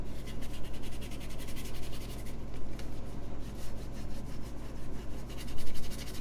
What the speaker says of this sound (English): Just a little bit more rubbing. The 800 grit.